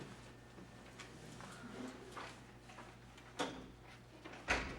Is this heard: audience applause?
no